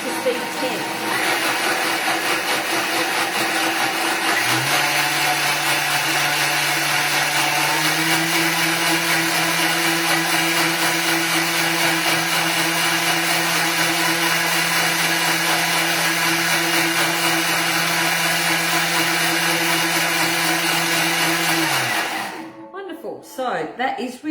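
A blender purees strawberry fruit coulis with a loud, steady motor whine that steps up in pitch as the speed is raised from 5 to 10, running for about twenty seconds before cutting off.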